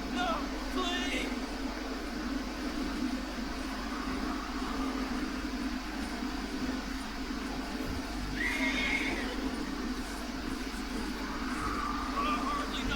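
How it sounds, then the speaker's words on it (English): Horse neighing and whinnying in the Red Dead Redemption 2 video game, with several loud whinny calls over a steady mechanical rumble and background voices. "Horses make a lot of noise."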